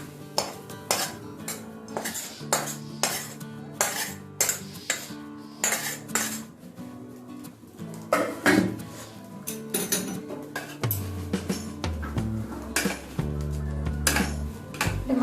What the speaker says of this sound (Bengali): ভালো করে আমি মিক্সিং করে নিয়েছি